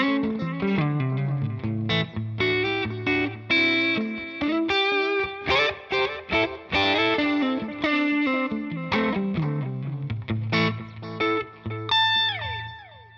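Electric guitar played through a TONEX pedal using Copper Gold tones, a continuous run of distorted chords and melodic lead notes with chorus and reverb effects, loud and close with no voices.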